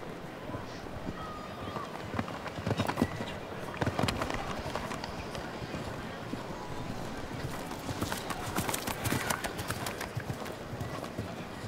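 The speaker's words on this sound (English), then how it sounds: "The enormity of the international ring gets these horses really starting to open up." Show jumping horses gallop around a large international ring, with quick clip-clop hoofbeats that swell and fade in bursts under a commentator's steady talk, set against a faint crowd murmur.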